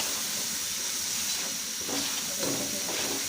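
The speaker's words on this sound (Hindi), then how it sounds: "मसालों को हम हल्का सा फ्राई कर लेते हैं, भून लेते हैं।" Spices frying in oil for achari daal, a loud, steady sizzling hiss that runs throughout with slight swells in the bubbling.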